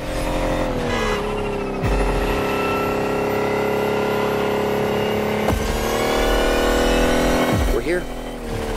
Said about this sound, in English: use the Lotus's full acceleration from the start